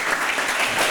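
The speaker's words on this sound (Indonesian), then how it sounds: "Berikan aplaus." An audience claps steadily in a classroom after a group presents its discussion results, a dense, sustained burst of many hands lasting the whole moment.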